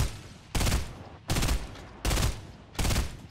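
Burst rifle fire in the Fortnite battle royale game, four loud, evenly spaced bursts of rapid shots about every three quarters of a second, each a dense crackling volley over a busy game background.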